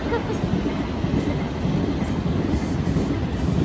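A train rumbles steadily past without slowing, a continuous low roar of wheels and cars with faint rhythmic clatter throughout.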